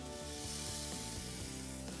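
Onion, carrot and celery with garlic and chili sizzle in olive oil in a pot, a steady close frying hiss with no talk.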